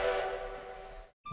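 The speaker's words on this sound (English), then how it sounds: "The whistle sound, however, was taken from Sierra Railway No." Sierra Railway No. 3 steam locomotive whistle blowing one loud chord that fades over about a second, ending in a brief silence before another sound cuts in.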